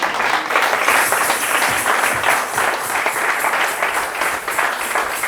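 A church congregation breaks into sustained applause and cheering for the Lord, a dense, steady wash of many hands clapping that fills the room for several seconds without any clear speech over it.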